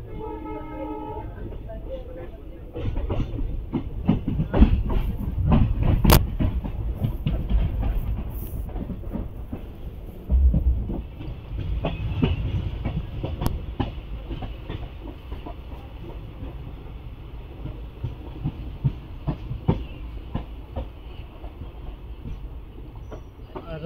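Mysuru–Talguppa Intercity Express running on rails between Mysuru and Hassan Junction, a steady rumble of wheels with faint clickety-clack and occasional louder surges, heard from on board throughout.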